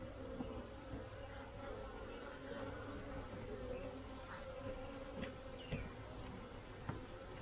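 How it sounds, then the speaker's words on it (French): Honey bees buzzing around a beehive during an oxalic acid varroa treatment after swarming and a colony split, a soft steady droning hum with no speech. "Alors bon, et les abeilles."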